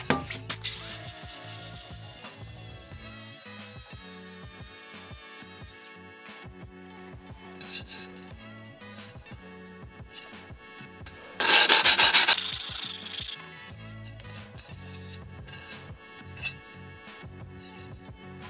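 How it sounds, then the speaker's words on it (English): A Kobalt 24V handheld tile saw miters ceramic tile, a loud whining cutting burst near the start and another short intense burst later, with quieter grinding and rubbing between. "let's quickly miter this ceramic"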